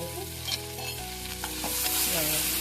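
Horse gram sprouts frying in a pan for upma, with a steady sizzle and the scrape of a spoon stirring, building slightly louder toward the end with no talking.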